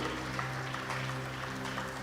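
A crowd at an awards dinner claps steadily throughout, a dense wash of applause under a low background hum.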